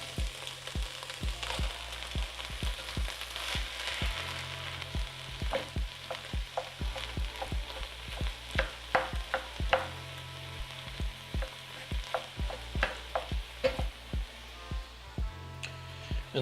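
Ground beef frying in a pan with garlic for stuffed-pepper sloppy joes, a steady close sizzle broken by frequent sharp scrapes and taps of a spoon stirring the meat.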